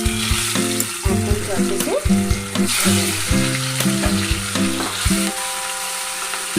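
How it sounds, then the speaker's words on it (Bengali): Pieces of bhola fish frying in hot oil in a pan, a steady close sizzle with crackling bursts under someone speaking Bengali throughout. "এই ভোলা মাছের টুকরোগুলো আমার ভাজা হয়ে গেছে"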